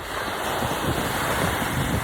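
Ocean waves breaking in a steady, broad rushing wash with wind buffeting the microphone, continuous and fairly loud with no voices.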